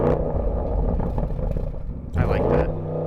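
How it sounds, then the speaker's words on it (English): An Audi RS Q8 with a performance exhaust gives a deep, low rumbling rev close by, swelling and falling, with a brief clattering burst near the end and a voice talking partly over it. "Give it some revs."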